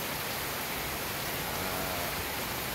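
Heavy rain pours down in a continuous, loud, even hiss of falling water with no breaks.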